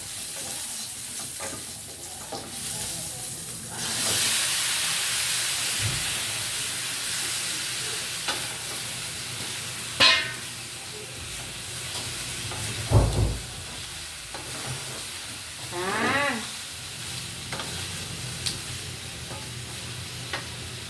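Pork belly (liempo) frying in a pan. A loud, continuous hissing sizzle builds after a few seconds and holds, broken by occasional sharp spatters and scraping stirs, with no voices.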